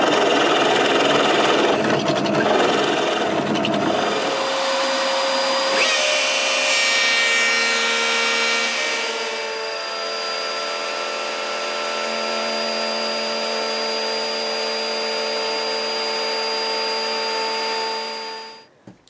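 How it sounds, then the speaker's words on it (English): A router cuts coving on a guitar build, starting with a few seconds of loud, rough cutting noise. A steady high whine then carries on until the tool winds down and stops at the end, with no speech. "So that is all our coving routed done"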